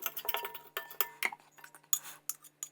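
Sourdough being scraped off the walls of a bowl with a utensil, a quiet series of irregular clinks, taps and scrapes close by, with no talking.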